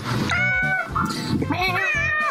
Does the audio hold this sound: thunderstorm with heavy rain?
no